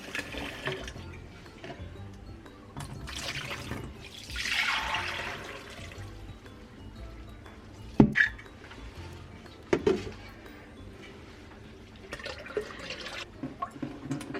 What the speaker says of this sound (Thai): คุณจะล้างน้ำสะอาดในสองครั้งนะคะ